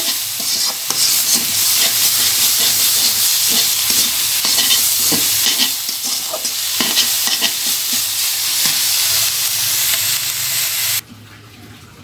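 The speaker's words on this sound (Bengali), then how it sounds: "শাকটা ফোড়নের সাথে মিশিয়ে নিচ্ছি নিয়ে কিছু সময় নেড়ে চেড়ে" Red amaranth greens are stirred through a hot tempering in a pan, with continuous scraping and rhythmic stirring over a strong, close sizzle that cuts off abruptly near the end.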